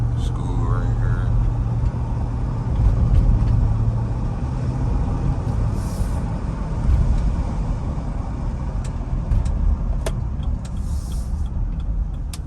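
A 2011 Jeep Grand Cherokee with the 5.7 Hemi V8 drives through a school zone, with a steady low engine rumble and road noise heard from inside the cabin while occupants talk.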